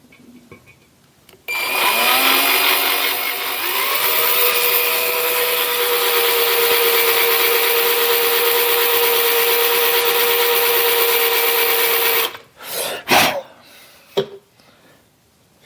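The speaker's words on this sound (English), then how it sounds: "Let's drill this thing." A drill bores into a metal casting in a workshop, with a loud, steady whining motor tone that runs about ten seconds, followed by a few short bursts and knocks as it stops.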